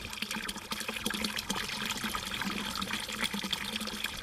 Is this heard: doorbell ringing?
no